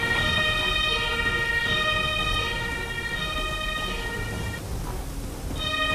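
A wailing ambulance siren in the Emergency video game sounds steadily and loudly for the whole stretch, with a slight dip near the end before rising again.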